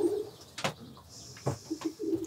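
Racing pigeons cooing inside a loft, low soft coos recurring a few times with brief wing-like rustles, moderately close and quiet, no talking.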